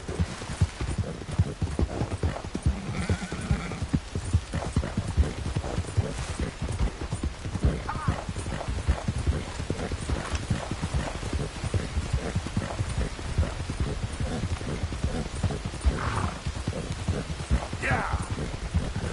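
Horse hooves clip-clop steadily through the whole stretch with an occasional neigh, close and fairly loud, and a person speaks briefly over the hoofbeats.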